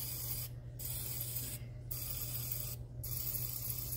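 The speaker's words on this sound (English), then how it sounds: "just spray the inside of each of your little egg cups." A kitchen spritzer sprays oil inside small silicone egg cups for egg bites, a hissing mist broken by three short pauses, close and fairly quiet with no talking.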